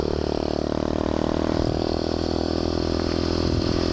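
Pit bike engine revving continuously while riding along, a steady buzzing mid-pitched motor note with wind and rattling, loud and close throughout.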